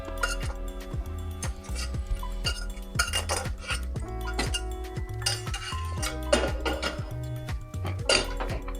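Jaggery syrup is poured into thick payasam in a metal pot off the stove and stirred in, with steady, close metallic clinks and scrapes of a utensil against the pot repeating throughout.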